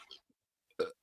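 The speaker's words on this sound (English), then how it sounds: "You want some burps?" A single loud, close burp lasting about a fifth of a second follows a few faint mouth noises, with near silence between them.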